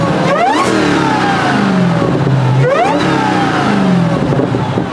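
A Dodge Demon 170 V8, still being broken in, revs at half throttle in a couple of loud, close blips that rise and fall over a steady running engine.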